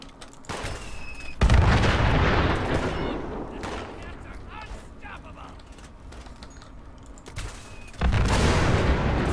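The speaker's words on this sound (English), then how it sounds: "Let's bring out the daisy cutter again. Fire in the hole!" A daisy cutter explosive going off in Fallout 76 during a Brotherhood of Steel fight: a heavy roaring blast bursts in and rumbles loudly, fades into a long rolling tail with speech over it, then a second loud boom swells near the end.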